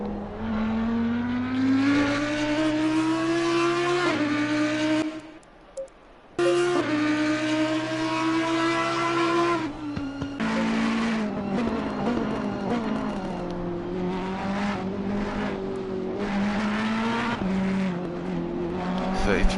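A GT3 race car with a 5.2-litre Lamborghini V8 races at a circuit, its engine roaring continuously with rising and falling revs through gear changes, loud and close, with a brief dip midway.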